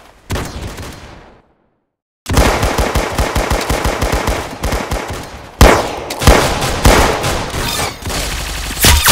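Gunfire in a shooter video game: loud bursts of rapid automatic fire, broken by a brief silence, then longer sustained volleys with a heavy punchy tone, close and dominant.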